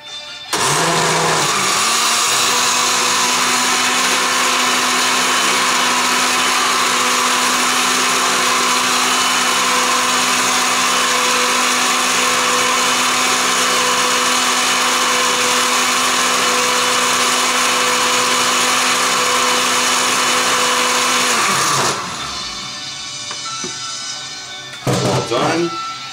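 A blender whirring through coffee, loud and steady for about twenty seconds with a constant high whine, then cutting off abruptly, leaving quieter room sound with a few brief knocks at the end.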